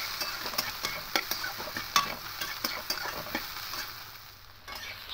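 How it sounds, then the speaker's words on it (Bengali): Soya chunks fry in hot oil in a wok, a continuous sizzle broken by repeated sharp scraping strokes of a spatula as they are stirred, close and fairly quiet with no talk. "সয়াবিনগুলো খুব ভালো করে ভেজে নিতে হবে।"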